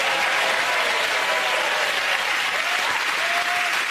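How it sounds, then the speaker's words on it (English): Studio audience applauding game show players at the close of a round, a full, even roar of many hands clapping continuously at close range. "Give them all a round of applause."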